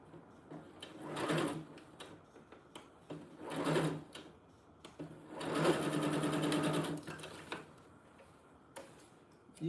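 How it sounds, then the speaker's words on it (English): A sewing machine stitches tiny doll clothes, running in three or four short bursts of fast, rattling ticks with quiet pauses between them, close up and moderately loud, with handling noises in the gaps. "You can't really sew too fast with this."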